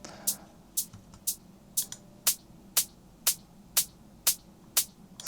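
An open hi-hat that sounds almost like a ride cymbal in a dance track, a bright, airy metallic wash struck about twice per second in an even off-beat pattern, each hit decaying quickly over faint low background.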